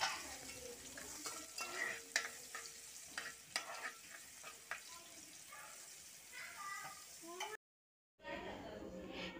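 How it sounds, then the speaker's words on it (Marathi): Crushed garlic hits a tempering of crackling mustard seeds, a busy close sizzle with spattering pops and stirring scrapes, someone talking over it, then a brief dropout before the frying resumes. "राई चांगली तडतडली आहे, तर आता इथे ठेचलेलं लसूण फोडणीला घालत आहे वहिनी।"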